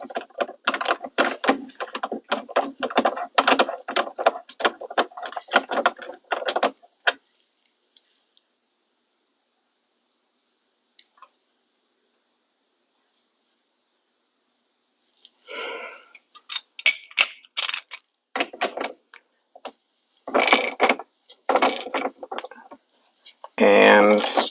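Socket ratchet with an extension snugging a bolt on a Ford Maverick steering wheel, giving bursts of quick metallic clicking and rattling, first stretch then a silent gap, then more clicking resuming near the end.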